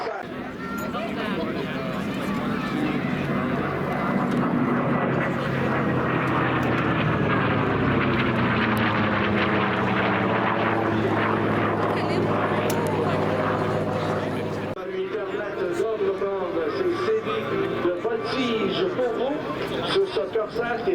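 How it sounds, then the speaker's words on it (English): A Corsair WWII fighter plane roars past at an air show in Gatineau-Ottawa, a loud propeller engine with a sweeping Doppler pitch shift, heard under steady French commentary over the public address and crowd chatter. "Nous apparaît un autre appareil de chasse de cette belle période, celui qui est une vedette du Pacifique, le Corsair."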